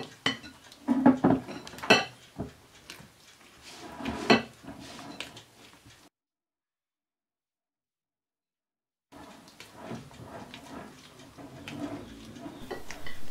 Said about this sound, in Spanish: Luego echamos la yema a la clara y seguimos removiendo.